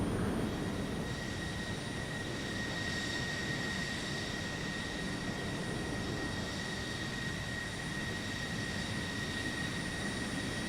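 F-14A Tomcat jet engines in a flight simulator, a constant loud roar with a high whine running evenly throughout, no voices.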